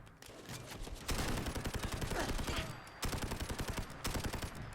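PP19 Bizon submachine gun, a Call of Duty port, firing in Fallout 4: loud, rapid automatic bursts of gunfire, rattling in long strings with brief pauses between volleys.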